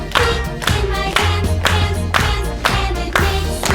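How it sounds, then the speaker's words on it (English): Students clap their hands in a steady beat while marching during a music lesson, sharp regular claps about every two-thirds of a second over a low musical backing, close and loud. "Clap your hands and keep marching."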